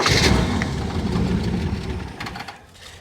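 An old car with a failing carburetor runs after a battery jump, its engine idling loud and close with a steady low rumble that eases slightly toward the end.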